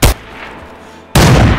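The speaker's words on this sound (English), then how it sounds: "There's another over here shooting." Gunfire in the video game DayZ, with a loud close gunshot cracking at the start, a quiet ringing gap, then another heavy blast that carries to the end.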